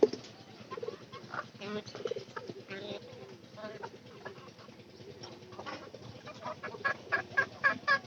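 Pigeons coo and flutter nearby in a steady, busy flock chatter, with rhythmic cooing pulses growing stronger toward the end.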